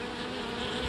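A honey bee swarm buzzes in a dense, continuous drone, close and steady, alone for a brief moment.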